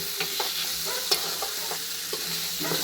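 Spices for a mango and poppy seed chutney sizzle in hot oil while being stirred and scraped, with repeated sharp spatula clicks against the pan over a steady frying hiss.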